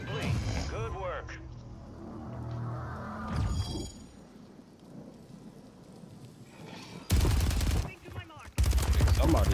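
Gunfire in the Warzone 3 video game, with loud bursts of shots in the last few seconds following a stretch of quieter game sounds, with voices talking over the early part.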